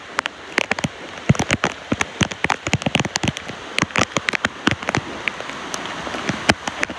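Heavy monsoon rain at Lonavala, loud close drops striking a surface in a continuous patter with sharp, irregular louder hits throughout and no voices.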